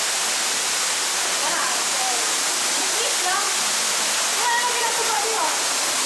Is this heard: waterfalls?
yes